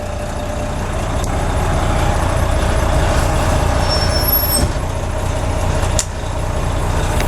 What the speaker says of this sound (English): Air brake.